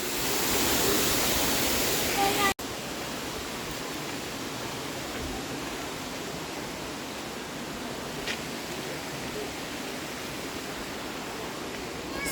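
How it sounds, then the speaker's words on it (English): A waterfall in the Shuswap region of British Columbia roars as a steady, broad rushing wash of water, loud and unbroken throughout, after a brief louder opening segment. "Super nice waterfall"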